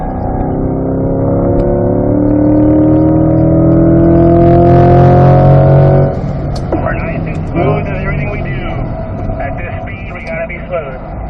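A C8 Corvette accelerates hard on the Spring Mountain Raceway track, its engine note climbing loud and steady for several seconds, then dropping sharply as the car passes and fades, with someone talking over it.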